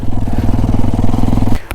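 A motorcycle rides along a rough road, its engine chugging in a loud, close, rhythmic pulse before cutting off with a sudden clatter at the end.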